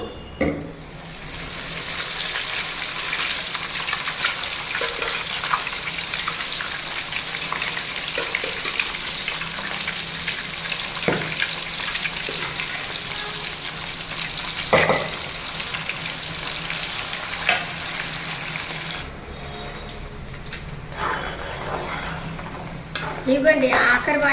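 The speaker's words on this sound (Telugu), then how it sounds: "అన్నీ ఇదే విధంగా డీప్ ఫ్రై చేసేయాలండి" Mutton pieces deep frying in hot oil for pickle, a steady hiss and sizzle with occasional clinks of a utensil against the pan, close and continuous before easing near the end.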